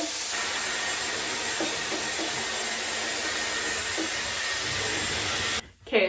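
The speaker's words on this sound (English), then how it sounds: "so I just blow dried my hair more" A Dyson Airwrap blow-drying thick, long hair, a loud steady whooshing airflow running for about five and a half seconds before cutting off abruptly, followed by a brief handling bump.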